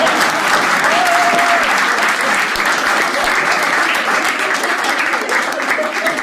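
Audience at a Hindi stand-up comedy show bursts into sustained, loud clapping that holds steady for several seconds, a dense wash of hands close by with no speech over it.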